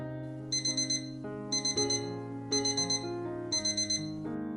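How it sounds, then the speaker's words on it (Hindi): A morning alarm clock rings in four regular bursts of rapid, high electronic beeps, each burst a quick cluster of pulses, layered over soft sustained background music. "एक तो वह सुबह वाली नींद और ऊपर से ये कमबख्त अलार्म।"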